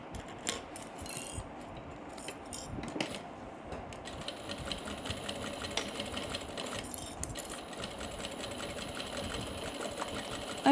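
A sewing machine stitches a crossbody bag, running steadily for several seconds in a busy rattling whir, with short back-stitch pauses and restarts and faint clicks and handling noises in between.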